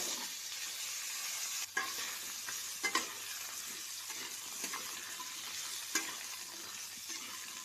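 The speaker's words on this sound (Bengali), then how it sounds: "আলুগুলো ভেজে নেওয়া হয়ে গেছে" Potatoes and fish fry in a pan with cumin tempering, a soft continuous sizzle with occasional stirring clinks and scrapes, fairly quiet.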